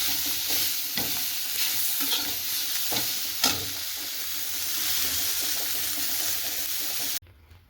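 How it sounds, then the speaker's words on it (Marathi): Onion and coconut sizzle in hot oil in a pan for misal pav masala, a steady frying hiss with occasional scrapes of stirring, close and without talk, ending abruptly. "कांदा, खोबरं हे सगळं भाजून घ्यायचं छान तेल टाकून"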